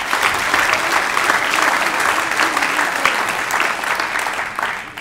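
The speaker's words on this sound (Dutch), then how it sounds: "Beste mensen, nogmaals even applaus." An audience applauds after a lecture on the future of journalism, sustained clapping from a large room that holds steady and tapers slightly at the end.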